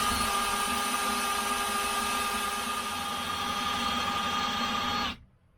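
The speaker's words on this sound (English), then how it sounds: "You'll notice that we're turning the drill clockwise in rotation" A power drill spinning the pump of a Tuff Torq K46 transmission whirs at a steady high speed with a constant mechanical drone, running continuously before cutting off abruptly near the end.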